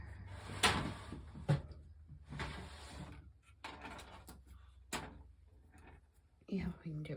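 A drawer opened at a craft table while searching for a tool to spread collage medium, with several short wooden knocks and slides spaced across the moment amid quiet rummaging and soft speech.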